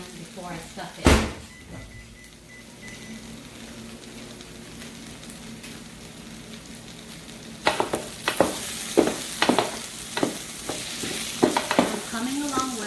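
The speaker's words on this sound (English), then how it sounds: "cook it a little bit more in the pan before I stuff it" Portuguese sausage stuffing for eggplant parmesan fries in a pan, a soft steady sizzle under low talk at first, then a run of close clattering stirs and scrapes against the pan over the continuing hiss.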